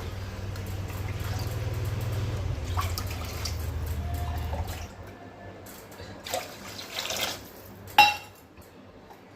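Water poured into a pot holding one cup of washed rice, a steady liquid rush for the first few seconds that fades, followed by scattered drips and light clinks of a pot or utensil.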